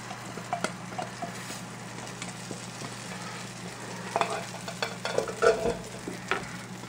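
Beaten eggs cook in a pan of foaming butter for a French country omelette, giving a soft, steady sizzle with occasional light scrapes and taps of the pan.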